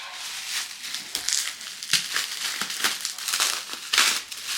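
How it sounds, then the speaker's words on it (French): Packing material crinkles and crumples as a laptop is wrapped up, a close, busy run of rustling and crushing sounds with no talking. "Bon, mission, emballer au max l'ordi"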